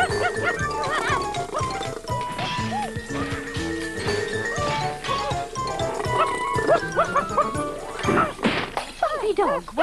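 A cartoon dog in Noddy's Toyland Adventures barks repeatedly in sharp, excited yaps amid a chaotic milk-round scene, with bangs and clatter, cartoon sound effects and character voices talking over it.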